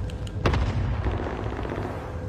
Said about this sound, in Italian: Occhio, bombardamento.